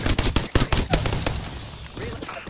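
Rapid bursts of automatic gunfire from a firefight in the battle royale game Apex Legends, loud and sharp in the first second, then thinning into scattered shots and clatter under game noise.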